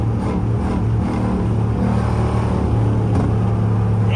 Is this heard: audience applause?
no